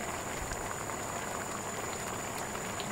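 Fish simmers in a pan, giving a dense, steady bubbling hiss like light boiling that continues evenly at moderate volume with no voices.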